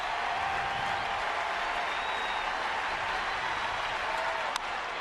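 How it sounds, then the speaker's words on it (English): A large baseball stadium crowd cheers and applauds steadily during a tense 3-2 count in a perfect game, a dense, sustained roar of clapping and voices filling the whole stretch with little variation. "listening to that crowd"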